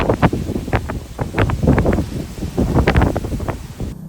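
Strong typhoon wind tears through banana and acacia trees in Patag, Silay, roaring in loud, gusty bursts with heavy buffeting against the microphone and no voices.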